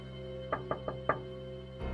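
Four sharp knocks rap on a window in quick, slightly uneven succession, a horror-story sound effect, followed by a low rumble swelling at the very end.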